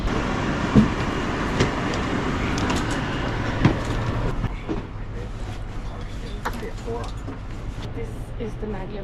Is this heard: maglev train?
yes